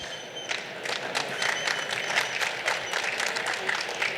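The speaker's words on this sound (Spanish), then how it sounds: "Un fuerte aplauso para el ponente." Audience applause for a speaker at a philosophy lecture event, a steady spatter of many hands clapping with irregular louder claps throughout, moderately near and without speech.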